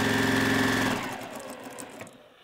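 A sewing machine chain-pieces quilt blocks, a steady close-up mechanical whir that runs loudly for the first second and then slows and fades over the rest of the clip, with no talking.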